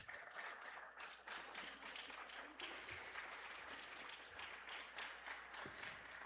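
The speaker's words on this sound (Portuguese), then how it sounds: "Vamos levantar para bater palmas para o Teobaldo." A seated audience at a family descendants' gathering breaks into steady, sustained applause, with many hands clapping densely together at a fairly distant, even level.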